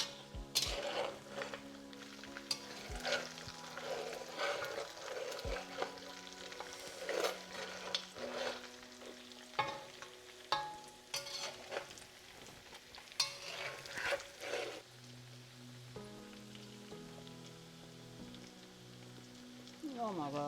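A pan of Kashmiri chokhta, a mutton curry, bubbles and sizzles as it cooks down, with steady frying crackle and repeated stirring scrapes throughout.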